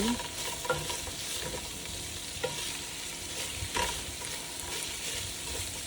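Steady sizzling and stirring of ginger and onion sautéing in a pot, with a continuous frying hiss and occasional scraping clinks of a utensil, no voices.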